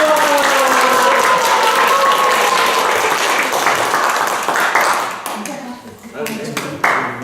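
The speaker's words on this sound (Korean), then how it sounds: "박길수 원장님을 큰 박수로 맞이하겠습니다" A lecture audience applauds to welcome the speaker, a lecturer and library director, with a full burst of clapping and a ringing tone early on, then the clapping thins into scattered claps as a voice begins.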